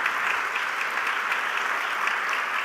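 Church congregation clapping hands together during a worship message, a dense continuous roar of applause filling the whole stretch at steady volume.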